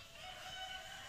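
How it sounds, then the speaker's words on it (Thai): A rooster crows faintly in rural woodland where several chickens roam, a single brief, distant call with no one speaking. "โอ้ไก่ผุดขึ้นหลายตัว"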